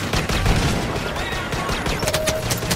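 Rapid blaster gunfire from a Star Wars Battlefront multiplayer Walker Assault battle, dense overlapping bursts of shots sustained at steady loudness throughout, with no clear speech.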